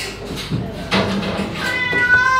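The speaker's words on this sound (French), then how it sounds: "vous voyez que ces petits chatons-là avaient envie de jouer" Small kittens meow several times in quick succession, loud and close, with faint background noise between the cries.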